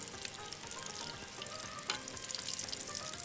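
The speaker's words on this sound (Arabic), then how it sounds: "وعلى العين الثانيه شغال الثوم مع البصل" Garlic and onion sizzling in a pan on a stovetop burner, a steady close crackling fry with faint stirring touches and no voices.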